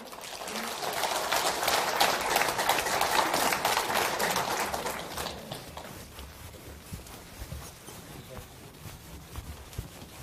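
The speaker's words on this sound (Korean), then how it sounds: "박수 한번 주세요" A lecture audience applauds during a Korean talk on cryptocurrency and the history of money: dense, loud clapping for about five seconds, then fading into quieter room noise with scattered sounds.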